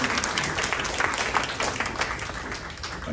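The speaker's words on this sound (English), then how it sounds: "everyone, please give a round of applause to Nabila for putting this together" Audience at a town hall on gun violence prevention applauds a panel organizer, a dense wash of many hands clapping at steady volume throughout.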